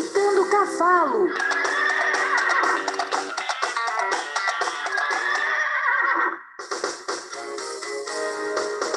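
A voice imitates a horse's whinny with a quick, warbling neigh at the start, followed by a children's farm-animal song with singing and music that runs to the end.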